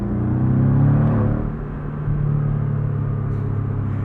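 A 2024 Porsche 718 Boxster Style Edition's flat-four engine drones low and steady from inside the car while driving, with a brief dip in revs partway through as if between gears.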